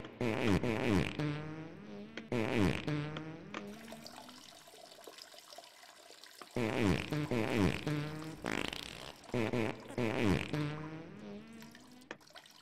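Voices imitate fart noises in a rhythmic, rap-like pattern during play of the game Totally Accurate Toilet Simulator, buzzing bursts repeating close to the mic with short gaps between them.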